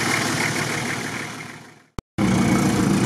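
A car engine idles steadily just after starting during an off-road outing, with a rough, mid-low rumble that drops out for a brief moment before resuming at full strength.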